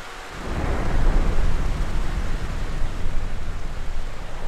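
Steady heavy rain hisses throughout while a deep roll of thunder rumbles and swells, loud and close, with no voices, in GTA San Andreas.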